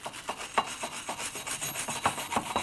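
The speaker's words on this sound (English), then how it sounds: "I'm going to start with a wire brush." A wire brush scrubs the rear hub surface of a 2007-2013 Acura MDX in quick, rhythmic rasping strokes, several per second, close and crisp with no voices.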